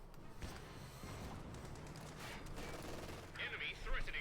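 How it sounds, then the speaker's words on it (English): A half-track's quad .50 caliber machine guns blast away in a Company of Heroes 2 battle, a quiet, distant stretch of rattling bursts with occasional sharper reports. "got the half-track blasting away there with its quad 50 calibers"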